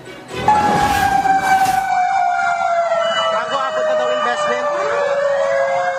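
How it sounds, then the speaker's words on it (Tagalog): Fire truck sirens arrive at a residential fire in Barangay Tandang Sora, Quezon City, as a loud, close wail sliding downward and sustained over engine rumble. "Sunod-sunod na dumarating ang mga truck ng bumbero"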